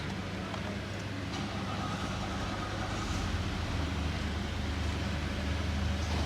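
A Nissan Patrol Platinum with fuel-pump and low-fuel-pressure faults idles with a steady, close engine drone and low hum. The sound stays even throughout, and no distinct start-up crank is apparent.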